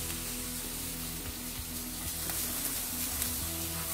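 Bacon and portobello mushrooms fry in a pan, giving a loud, continuous sizzle with scattered scrapes and clinks as the food is stirred, and no voices.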